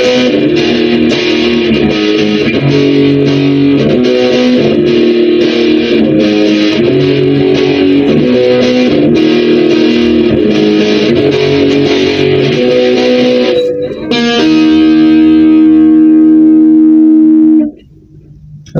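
A heavily distorted electric guitar through a Boss Blues Driver BD-2 pedal at maximum gain plays a continuous, saturated riff, ending on a loud sustained chord that abruptly cuts off.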